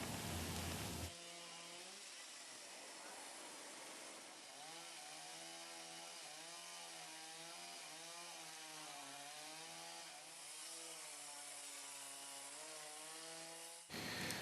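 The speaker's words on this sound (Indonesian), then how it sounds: "Petugas dari tim reaksi cepat BPBD Kabupaten Bantul mengevakuasi pohon dengan menggunakan gergaji mesin" A chainsaw used by a Bantul district disaster rapid-response team cuts through a fallen tree, its high whining motor rising and falling steadily for about thirteen seconds, loud and close, with no talk.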